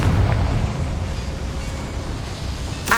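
Confringo blasting spell in Hogwarts Legacy, a low, rumbling explosive boom that swells at the start and fades into a long roar, followed by a brief sharp burst at the end.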